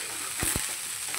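Rice being stir-fried in a kadai, two quick spatula scrapes over a steady, soft frying hiss.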